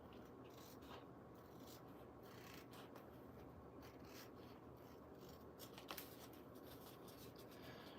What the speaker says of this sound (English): I don't know why I'm cutting this piece with the scissors.